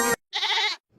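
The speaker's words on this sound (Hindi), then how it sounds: "अरे, यह तो बकरी के चिल्लाने की आवाज है," A single goat bleats once, a short wavering cry, close and loud, with a brief sound before it and quiet around it.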